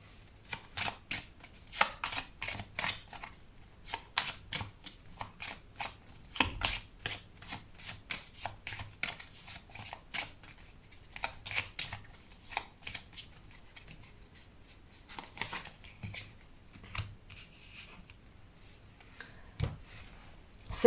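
Tarot cards being shuffled and drawn for an intuitive themed reading, a dense run of quick papery riffles and flicks at close range with short pauses between bursts, no talking.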